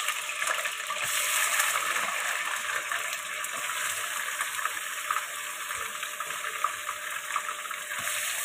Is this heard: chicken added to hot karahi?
yes